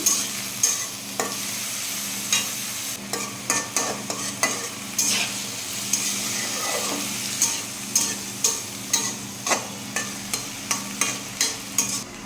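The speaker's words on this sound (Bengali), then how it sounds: "আমি সবজিটা ফোড়ন দিয়ে দিলাম।" Vegetables drop into hot oil already tempered with black cumin, bay leaf and chopped green chili, giving a close, steady sizzle punctuated by regular sharp clacks of a spatula stirring the pan, with no talking.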